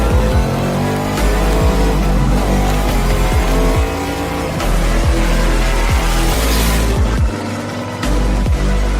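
A 700+ hp hot rod, a boxy flying-brick build, accelerating hard with a loud close engine roar, repeated rising revs through gear changes and some tire squeal, with no talking.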